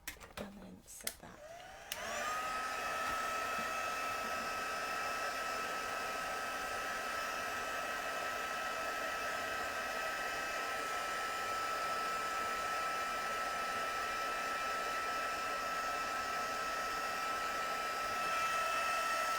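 A heat tool blows steadily and loudly for most of the stretch, drying and flattening watercolour paper for a stamped card background, with a few brief knocks and handling sounds just before it switches on.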